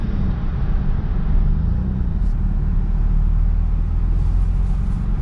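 A car with no working brakes drives slowly through city streets, its engine running as a steady low rumble that fills the whole stretch without a pause, with no talk over it.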